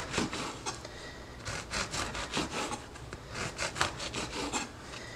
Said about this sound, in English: I'll continue slicing these and line the pan